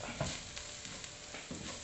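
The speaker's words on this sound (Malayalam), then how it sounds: "ഈ പൊടികളെല്ലാം കൂടി നന്നായിട്ടൊന്ന് മിക്സ് ചെയ്തെടുക്കുന്നുണ്ട്" Faint scraping and stirring of garam masala and spice powders in a pan with a soft sizzle underneath, quiet and close, no voices.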